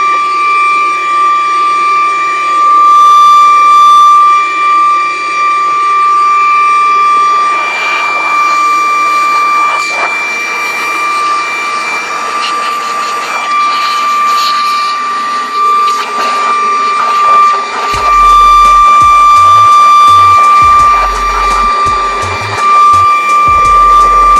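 A Saker mini rechargeable vacuum cleaner's small motor whines steadily with a high-pitched tonal hum, blowing air continuously and shifting slightly in pitch, with some handling noise near the end.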